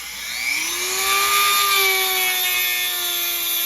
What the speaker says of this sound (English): I'm going to use the Dremel tool here to cut this off again